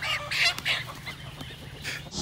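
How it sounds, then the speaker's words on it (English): A rooster clucks and squawks in several short, loud bursts close by, with quieter pauses between calls. "Dang that rooster."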